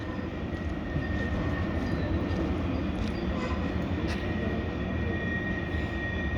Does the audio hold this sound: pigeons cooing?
no